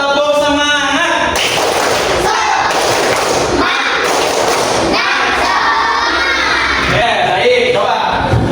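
A classroom of schoolchildren perform a rhythmic clapping chant, loud thumping claps and shouted chanting in bursts, close and energetic, with a teacher's voice heard between rounds.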